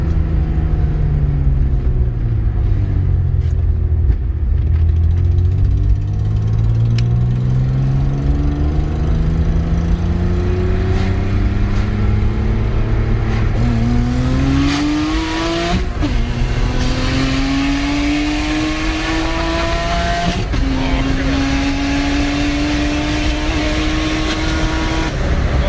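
A turbocharged BMW E36 with an M50B25 engine accelerates hard through several gears, its loud, close engine note climbing repeatedly with brief dips at each shift and no talking.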